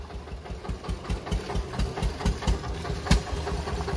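A tractor idles nearby in a rural Punjab setting, giving off a loud, low, pulsing engine throb with a regular knocking beat and slight rattling vibration.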